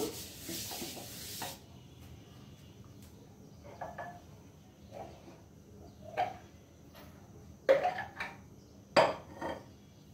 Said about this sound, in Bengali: এখন আর একটু মুছে দিব।